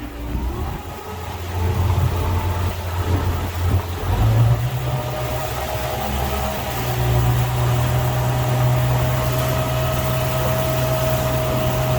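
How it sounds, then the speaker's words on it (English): A 2008 Pro-Line Express boat's engine rumbles steadily, then swells louder as it accelerates away, a sustained close low drone with no voices. "we're going to have him give some juice to the engine, and we'll take off on a ride"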